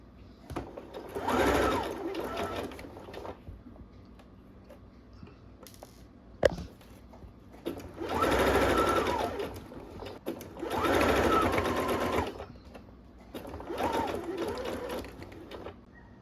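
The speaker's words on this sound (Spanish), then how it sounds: "Estoy cosiendo la segunda costura a la vista." A sewing machine stitches the second visible seam of a jacket, running in four separate bursts of a few seconds each with quiet pauses and small handling clicks between them.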